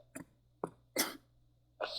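A person coughs four times in short, separate bursts spread evenly across a couple of seconds, close to the microphone in a quiet room with a faint background hum.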